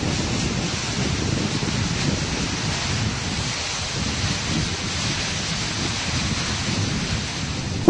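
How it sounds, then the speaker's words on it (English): Water from Estonia's Valaste waterfall, partly frozen, pours down in a steady, dense rush with a low rumbling roar that holds constant, heard alone without voices. "This is the Velast waterfall."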